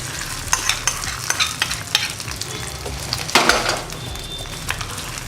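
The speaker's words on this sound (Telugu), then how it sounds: "దీన్ని చక్కగా ఇప్పుడు కలుపుకుందాం" Sweet pongal being stirred, cooked rice and lentils mixed with jaggery in a pot, giving steady close scraping and wet squelching strokes with faint sizzling underneath, no talk.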